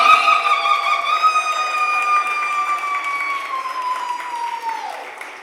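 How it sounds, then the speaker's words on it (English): Applause in a city council chamber in Philadelphia carries under and alongside a sustained musical or vocal tone, the clapping fairly steady before tapering near the end. "give us some Philadelphia, real big round of applause"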